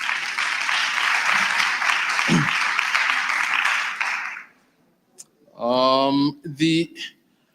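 A hall audience at a 2025 student representative council induction gives a full round of applause for visiting regional sports association officials. Dense, loud clapping runs for about four seconds, then stops, and a voice speaks briefly afterward.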